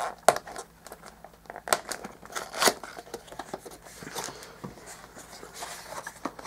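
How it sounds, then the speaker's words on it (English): Protective plastic film being peeled off camera packaging, a close, quiet crinkling and crackling with a few sharper snaps. "Let's just peel this off then."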